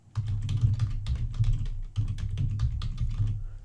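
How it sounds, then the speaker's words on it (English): Fast, continuous typing on a computer keyboard, close and fairly loud, with rapid clattering keystrokes and brief pauses between bursts, no voices. "So let me type my domain name."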